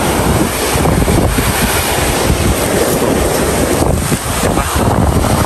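Steady, loud wind buffets the microphone while sea waves wash along a long beach shoreline with rock formations beside a coconut farm in San Francisco, Quezon, a continuous roar with no break.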